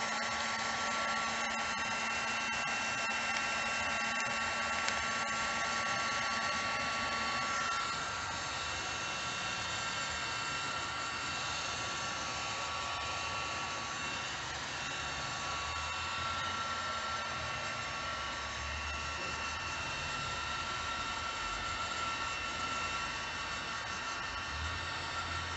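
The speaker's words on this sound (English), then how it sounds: "So now I'm just gonna heat it up, the heat gun." A heat gun blows steadily and loudly for the whole stretch while heating a lithium-ion battery pack during a build, its airy hiss close and unbroken, with a slight shift in tone partway through.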